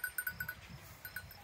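A small bell on a goat clinks in quick, irregular jingles, close by, over soft rustling and low background noise, on a walk between Pontecesures and Faramello.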